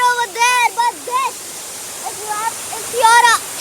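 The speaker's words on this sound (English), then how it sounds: "this is the massive waterfall aviary that we are in, and it's 100 feet high waterfall" A steady rushing hiss from the 100-foot waterfall inside the Jurong Bird Park aviary runs quietly beneath a person talking in short bursts.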